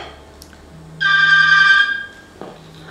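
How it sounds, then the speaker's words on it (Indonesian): A telephone rings once with a single sustained electronic tone lasting about a second, clear and fairly close, over a low steady hum, followed by a short faint second tone. "Om Jack, angkat telepon Om Jack."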